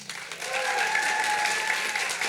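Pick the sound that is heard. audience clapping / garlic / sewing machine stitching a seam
audience clapping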